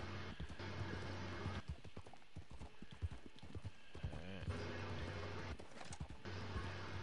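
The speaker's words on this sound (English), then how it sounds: "My horse has a tendency of getting stuck" A horse in Red Dead Redemption 2, hooves clip-clopping in an uneven rhythm over steady background noise with a brief whinny, while people talk over it.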